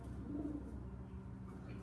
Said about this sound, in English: You can hear some of the older birds cooing in the basket already.